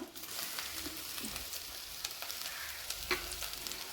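Urad dal, chana dal, dried red chilies, curry leaves and crushed ginger and garlic frying in hot oil, a steady close crackling sizzle with occasional sharper pops, no voices.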